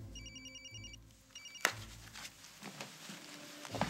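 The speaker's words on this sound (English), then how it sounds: "I'm not gonna answer it. I'm gonna let my voicemail pick up." A telephone rings indoors in a daytime drama scene, repeated electronic ring bursts sounding twice over low background music, then a sharp knock and rustling movement follow.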